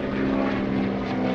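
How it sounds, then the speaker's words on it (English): Beechcraft T-34 Mentor propeller airplane passing at an airshow, a loud steady engine drone with a strong propeller hum, continuous and alone without voices. "the T-34 has become a favorite amongst the civilians because it's just a really cool airplane"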